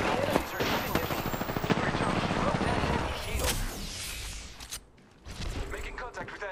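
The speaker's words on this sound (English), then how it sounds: "The enemies are shooting at me." Enemy gunfire in Apex Legends, dense rapid bursts of automatic shots with game effects, loud and continuous before a short lull, then resuming; voices are also present.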